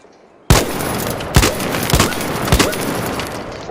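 Vulcano gun in a video game firing at a heavy shield: after a quiet lead-in, a sudden loud burst of dense gunfire noise, then three sharp, evenly spaced heavy shots about half a second apart over a sustained rumble.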